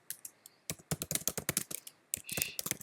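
Fingers type in quick bursts on a computer keyboard, a run of close, crisp key clacks with short pauses between them, and no one talking.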